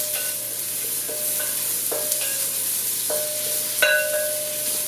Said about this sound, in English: To that, I'm going to be adding in some red onions. And to the red onions,